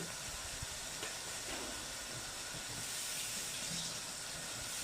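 Fried rice frying in a pan, a steady even hiss and sizzle held at a fairly low level for a few seconds, with no voices.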